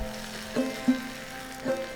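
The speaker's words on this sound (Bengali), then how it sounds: "পেঁয়াজ কুচি গ্রেট করা আদা আর রসুন কুচি দিয়ে খুব ভালো করে নাড়িয়ে চাড়িয়ে ভাজা ভাজা করে নিচ্ছি" Chopped onion, grated ginger and garlic fry in a pan with a steady soft sizzle, broken by a few faint stirring scrapes, and no voices.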